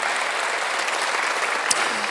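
A church congregation applauds during a Sunday worship service, with continuous, even clapping that fills the whole stretch at a steady level.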